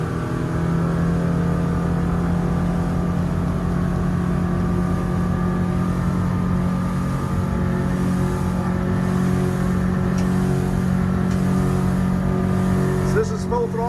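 A Merry Fisher 795 Marlin boat's outboard engine running at full throttle, a loud, steady, droning roar with constant whine and wind noise throughout, heard from onboard.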